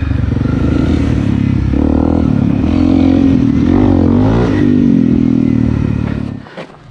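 Honda CRF 250 Rally motorcycle riding downhill off-road, engine loud and close with a wavering drone and rattling clatter, cutting off abruptly near the end.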